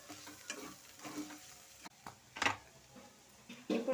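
Cabbage fry mixed with coconut powder is stirred in a pan, with quiet scattered scrapes and taps against the metal over a faint sizzle.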